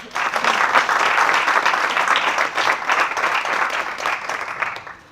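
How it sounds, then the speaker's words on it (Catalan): An audience applauds to welcome the speaker at a technical talk, dense, even clapping from a room full of people that holds steady for several seconds, then fades out at the end. "un aplaudiment"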